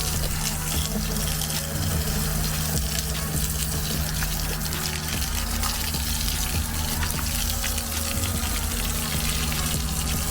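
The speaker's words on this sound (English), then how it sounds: "Wash out the sewer pipe. Wash down the hose." A steady rush of water from a hose rinses out an RV sewer pipe and hose at a dump station. The spray stays constant and fairly close for the whole stretch, with no talking.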